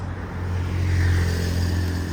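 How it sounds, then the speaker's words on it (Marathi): A vehicle engine idling nearby, a steady low rumbling drone that holds even and fairly loud through the short stretch, with no voices over it. "गाडी बंद कर गाडी बंद कर"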